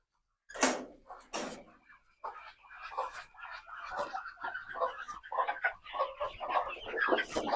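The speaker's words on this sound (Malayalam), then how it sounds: "എനിക്ക് കോഴികളും താറാവുകളൊക്കെ ഉണ്ട്." Backyard domestic chickens, native breed kept alongside ducks at a home, clucking in a busy run of overlapping calls with a couple of sharper squawks near the start, fairly close and continuous.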